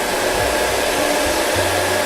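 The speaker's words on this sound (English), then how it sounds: "warming it with the dryer, letting it cool" A handheld hair dryer blows steadily and loudly up close while styling short hair and lifting the roots, a constant rushing whoosh with a slight low hum and no speech.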